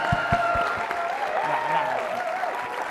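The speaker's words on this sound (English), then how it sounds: "Can we have one more round of applause for John" Audience applause at a film festival, a steady wash of clapping across the whole stretch with a few sharp, close claps near the start, set against a sustained tonal background.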